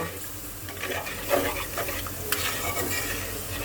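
Spice paste (masala) for a fish curry with potatoes fries in a pan, a dense close sizzle under repeated scraping and clinking strokes of a stirring utensil.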